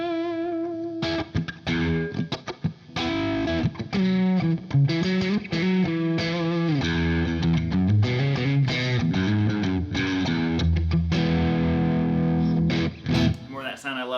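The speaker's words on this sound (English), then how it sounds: "You can hear it a little more of that buzz in there because now it's splitting the coils." A Friedman NoHo 24 electric guitar in pickup position 4 with split coils plays a run of chords and single notes through a buzzy, slightly distorted tone, loud and close, with short gaps between phrases and no talk over it.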